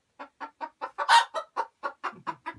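Backyard chooks cluck in a rapid, evenly spaced series of about a dozen close, loud clucks, one louder squawk midway, with no voices.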